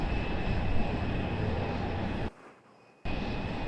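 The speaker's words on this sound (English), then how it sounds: "Another beautiful buttered landing for Southwest." A Southwest airliner landing at Raleigh-Durham airport, its engines a broad loud roar that runs steadily, drops away briefly, then returns at full strength.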